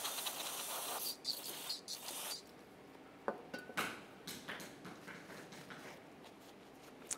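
Aerosol solvent cleaner sprayed on parking brake parts of a 2015-2020 Cadillac Escalade: a long loud hissing burst, then several shorter spritzes and faint clicks fading out.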